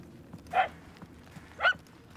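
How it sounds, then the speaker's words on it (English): Puppies in the Guardians of the Galaxy video game give two short, separate yaps about a second apart, fairly close and sharp against a quiet background. "The yapping is getting louder."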